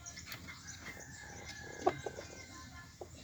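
Backyard chickens cluck faintly in the Philippines, a few soft, scattered calls and one sharper squawk rising over low outdoor background noise.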